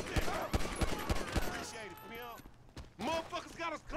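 Rapid bursts of gunfire in GTA V gameplay, a quick run of sharp shots early on, then scattered reports mixed with game effects and a talking voice.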